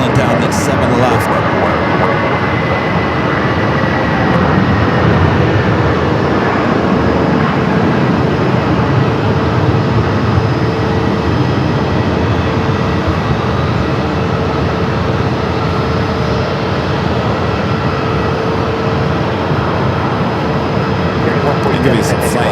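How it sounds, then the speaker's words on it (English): An old America West Airbus A319 rolls down runway 7 left at Phoenix Sky Harbor, a loud, sustained jet engine roar that stays steady throughout. "Let's go to another Old America West A319 rolling down at 7 left."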